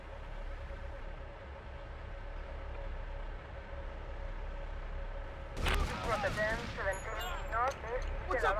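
Gunfire in Grand Theft Auto Vice City, a muffled low rumble of shots under steady background noise that turns into a sharper burst of fire mixed with shouted voices near the end.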